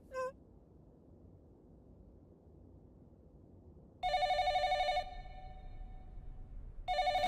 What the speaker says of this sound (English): Yes, when the phone rings, one answers it.